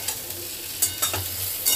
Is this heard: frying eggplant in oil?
yes